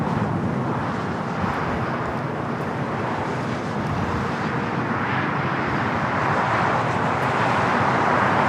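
A jet airliner arriving on the south side of LAX, a broad, steady roar that swells slightly toward the end, heard at a distance with wind noise and no talking.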